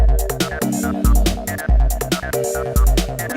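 Dub-style synth chords from a Roland MC707 groovebox preset pulse in a steady, loud rhythm over a driving beat, with sustained chord stabs repeating through the passage and no talking.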